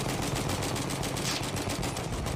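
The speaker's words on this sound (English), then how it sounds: "the machine guns take them down" Rapid, continuous machine-gun fire from a Battlefield 1 battle against Ottoman troops, a dense rattling burst that runs the whole stretch at moderate loudness with no talk over it.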